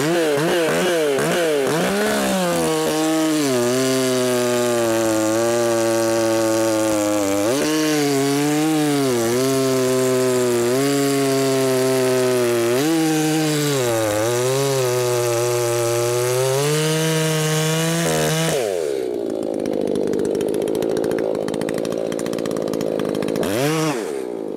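An Echo 590 chainsaw with a 24-inch bar runs rich and too fat, a loud close engine drone that wavers up and down in pitch for about eighteen seconds before dropping abruptly to a lower, smoother tone.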